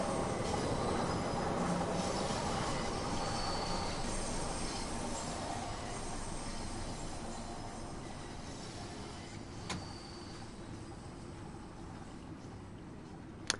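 A London Underground Bakerloo Line train in the Train Sim World 4 video game arrives at a station with a loud continuous rumble of wheels on track that slowly fades, then a faint squeal and a sharp click near the end.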